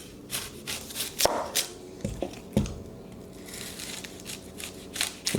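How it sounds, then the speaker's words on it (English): Knife chopping an onion on a board, a series of soft, irregular cuts and taps close by with a few sharper knocks, with no talking. "we need to chop up some onion now"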